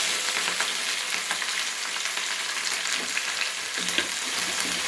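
Green chillies, cumin seeds and curry leaves sizzle in hot oil in a pan, a steady bright crackle of frying with occasional stirring scrapes, close and continuous.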